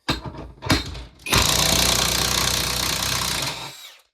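A Hercules half-inch 20-volt cordless impact wrench in automatic mode gives a few short taps and then a loud, close, continuous rattling hammer for a bit over two seconds before it stops abruptly.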